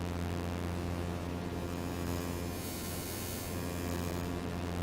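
A Serum synth wavetable morphing across 256 frames with smooth transitions, a sustained, buzzy harmonic drone whose upper brightness swells and fades gradually midway, steady and alone.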